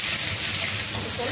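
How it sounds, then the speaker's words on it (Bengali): Onions frying in a pan, heard as a loud, steady, close hissing sizzle without pauses. "লাল লাল করে পেঁয়াজটা ভেজে নিই।"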